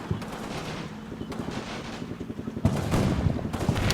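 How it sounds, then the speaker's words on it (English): Mortar shelling in the wargame Combat Mission Battle for Normandy, a run of dull, heavy blasts and rumbling impacts going off behind the listener and to the right, swelling louder toward the end with no voices. "You can hear behind and to the right a mortar shelling."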